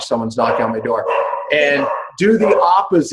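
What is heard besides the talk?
dog barking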